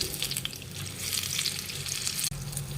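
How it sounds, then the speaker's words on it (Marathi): Battered chili peppers for mirchi pakoda sizzle and crackle steadily in hot oil, a dense, continuous frying hiss up close with a short dip near the end, no voices. "आता तेल तापवून ठेवलं तर आपण आता त्याच्यात मिरची पकोडा आपण सोडून घेऊया."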